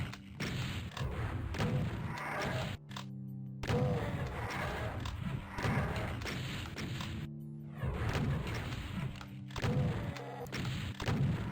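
Rocket explosions in Final Doom's Plutonia come as a steady barrage of heavy thuds and booms, one after another, with brief silent gaps between clusters.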